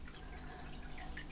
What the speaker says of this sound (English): it returns the water via the return tube back into the tank